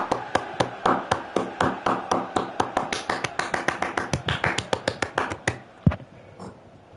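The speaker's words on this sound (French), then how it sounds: "C'est de l'applaudissement, les mecs" Sharp, distinct claps ring out in a steady rhythm that gradually quickens into a rapid run, then ends with one heavier hit and silence, sounding like a few hands rather than a crowd.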